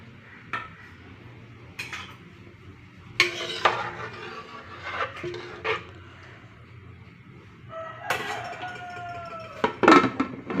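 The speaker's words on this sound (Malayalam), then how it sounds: "കുക്കർ അടയ്ക്കുവാണ്" A pressure cooker holding payasam of broken wheat and split green gram is shut, with metallic clanks and scrapes of the lid and pot in separate bursts, one sharp ringing clang near the end.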